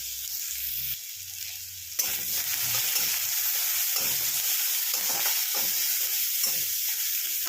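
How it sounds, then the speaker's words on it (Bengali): Chopped onion frying in a pan for a homemade rasam-style dal, a steady close sizzle with the crackle rising after a brief quieter start, stirred now and then. "আমার অল্প জিনিস বলে আমি অল্প একটা পেঁয়াজ দিয়েছি। এটাকে একটু ভালো করে ভেজে নেব।"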